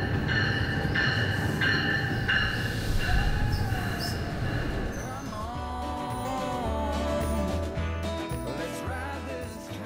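A passenger train on a New Jersey line rolls into a station, a steady loud rumble with squealing wheels and tonal brake whine building over ten seconds, no talk.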